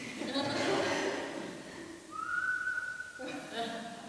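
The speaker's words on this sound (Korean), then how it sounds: "휘파람 소리를 잘 냅니다" A person whistles a single clear, sustained note for about a second, preceded by soft laughter and breathy sounds nearby.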